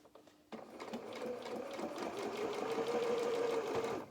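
Sewing machine running steadily as it stitches a small elastic baby or doll shoe, starting abruptly after a brief quiet moment and continuing as a close, fairly loud, even whir with a rapid needle rhythm.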